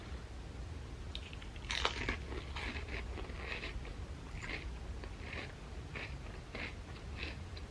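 Crisp crunching bites of chips with dip, recurring in short bursts every half second or so, close and fairly faint against a steady low background hum.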